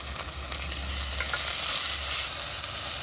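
Ground masala paste sizzles and fries in a pressure cooker while being stirred for prawn biryani, a steady close hiss with soft scraping strokes and no talking.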